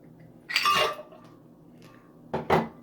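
Two bursts of hard clattering as ice cubes tumble into a blender jar with milk and sugar, separated by a quiet pause; close and fairly loud.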